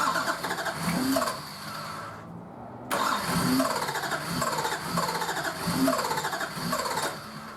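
A Nissan RD28 diesel engine cranks and fires after injector work, running in a rough, uneven rhythm close by, with a brief silent gap before it catches again and keeps chugging loudly.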